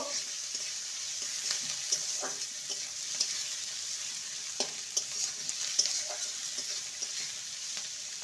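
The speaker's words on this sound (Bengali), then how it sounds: "আর দিয়ে দেবো গ্রেট করা রসুন ভালো করে কষিয়ে নেব" Grated garlic sautéing with onion and ginger in a pan, a constant bright sizzle with light, irregular scrapes and taps of a stirring spoon throughout, close and continuous with no voices.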